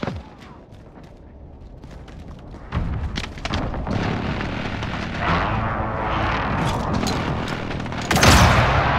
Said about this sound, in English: Precision airstrike, take cover!